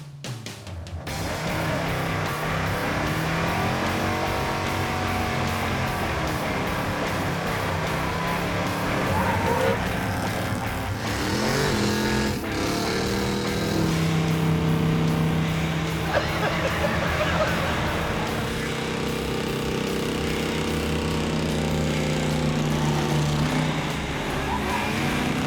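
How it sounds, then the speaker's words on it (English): Three cars doing a burnout together in a fireworks store parking lot, engines roaring loud and sustained with rising and falling revs and tire squeal, and people talking over the noise. "We got permission from the Fireworks Supermarket to do a three-way burnout in their parking lot"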